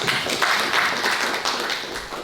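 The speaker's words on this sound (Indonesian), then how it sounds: "Tepuk tangan dulu ya." An audience at a meditation discussion session applauds in a dense, continuous wash of hand claps that stays fairly even throughout.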